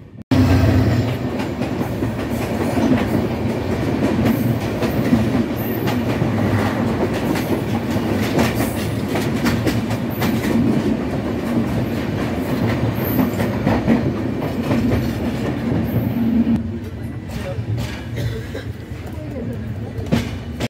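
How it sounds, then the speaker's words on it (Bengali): The Kurigram Express, running from Dhaka toward Kurigram, passes close by with a loud, sustained rush of wheels and rhythmic clickety-clack that eases slightly near the end. "এই মুহূর্তে আমাদের সাথে দেখা হবে ঢাকা থেকে ছেড়ে আসা কুড়িগ্রাম অভিমুখী কুড়িগ্রাম এক্সপ্রেসের সাথে"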